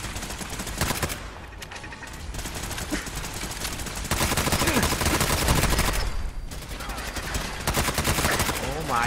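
Turret gunfire in the Fallout 4 Nuka World video game: dense, sustained automatic bursts rattling without pause, loud and close, with a brief lull before the firing swells again.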